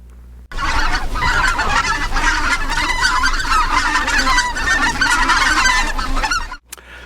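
A dense flock of greater white-fronted geese honks and yelps nonstop, loud and close, many overlapping calls with no talking.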